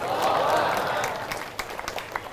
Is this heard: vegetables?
no